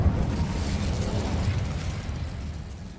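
A fire spell cast in the video game Hogwarts Legacy: a dense, rumbling whoosh of flame held steady for about three seconds, low and full with a crackling burst at the start.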